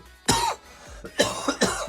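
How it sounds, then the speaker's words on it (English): Several short, close coughs in quick succession, one sharp cough followed by a pause and then a cluster of three. "I'm coughing a little bit."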